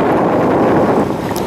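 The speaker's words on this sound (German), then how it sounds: "Es ist ordentlich windig." Strong sea wind buffets an exposed pier on the Baltic coast near Scharbeutz, a loud continuous roar of rushing air and microphone rumble with no voices.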